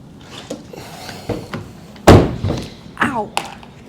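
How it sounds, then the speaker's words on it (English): A 2024 Hyundai Elantra's rear door swings open and thumps against someone's hip, one dull close thunk midway through, surrounded by people talking and small handling knocks. "I opened the door on my hip."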